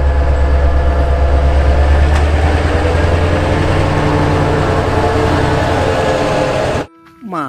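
A toy steam train rumbles and clatters continuously at close range with a low steady drone, then cuts off abruptly near the end as a voice begins speaking.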